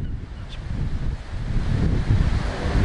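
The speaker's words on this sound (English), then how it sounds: "Hear the waves along the lake." Waves wash steadily along a lake shore in Bayview, with a low continuous rumble and constant wind noise on the microphone.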